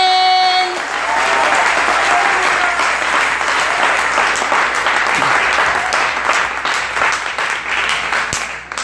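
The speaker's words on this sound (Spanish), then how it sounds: "Un aplauso por Guatemala." Sustained applause from a church congregation honoring Guatemala during a Spanish-language sermon: dense, steady clapping filling nearly nine seconds and easing slightly at the end, with a faint tone at the start.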